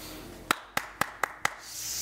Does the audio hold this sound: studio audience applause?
yes